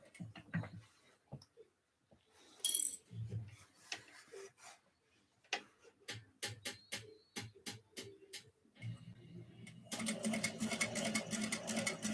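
A sewing machine runs in short bursts of rapid ticking stitches on a Sand Dollar sewing project, with a longer continuous run at the end, close and moderately loud, separated by brief pauses and handling sounds.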